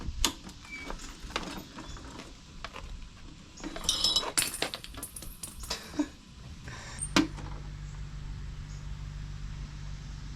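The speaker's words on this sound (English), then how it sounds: "Those are going to fall out" Plastic spring guides, springs and a spacer dropping out of a Razor MX650 electric pit bike's suspension, giving scattered light clinks and rattles, a busier cluster midway, then a steady low hum.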